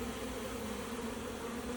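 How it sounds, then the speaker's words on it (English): A swarm of honeybees flies around a hive box and lands at its entrance, filling the air with a steady, dense, close-up buzzing that holds without a break. "there's a good many of these bees flying around, and they're coming into the box, landing on the entrance"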